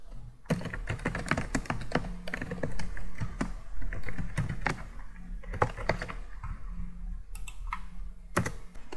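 Python code being typed on a computer keyboard: rapid, close clacking keystrokes in uneven bursts with brief pauses and a few louder key presses.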